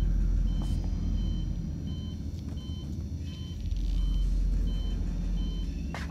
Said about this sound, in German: das Ding ist mega laut, der Transit